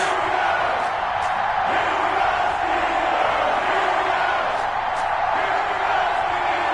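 A dense stadium crowd roars continuously before a Las Vegas Raiders versus Pittsburgh Steelers matchup in an EA Sports Madden NFL football video game, a steady wash of cheering and shouts with occasional whoops.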